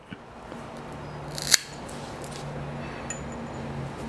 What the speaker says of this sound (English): now our last step is to trim the cable